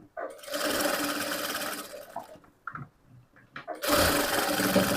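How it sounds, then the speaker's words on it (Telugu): A sewing machine double-stitches a frock cut from a blouse: a steady mechanical whir runs for about two seconds, breaks into a few faint handling sounds, then starts up again loudly near the end. "ఈ సెంటర్ వరకు ఇది కూడా డబల్ స్టిచ్ వేసుకోవాలి"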